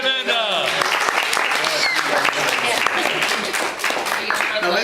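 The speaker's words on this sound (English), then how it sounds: "Everyone, let's give her a round of applause." An audience at a magic show breaks into lively applause that fills the room, with a voice calling out briefly at the start and cheering mixed into the clapping.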